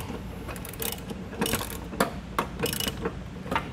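A hand ratchet with a socket and extension snugs down bolts on a hidden trailer hitch receiver, giving short bursts of quiet, rapid clicking separated by brief pauses.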